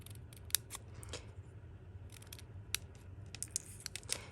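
Scissors snip through cardstock while trimming a birthday Z-fold card, a series of sharp, close, separate cuts spaced irregularly over a low steady background hum.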